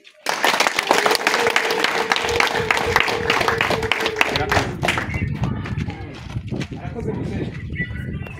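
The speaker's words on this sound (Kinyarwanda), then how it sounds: "Nimuntize amashyi" A church congregation breaks into loud applause, sharp hand claps bursting in after a brief silence, densest at first then thinning slightly with scattered cheers and voices toward the end.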